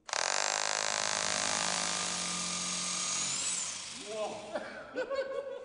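A drill bores through a crypt wall in an old monastery, a loud sustained whine that holds for several seconds before winding down, followed by brief voices and laughter.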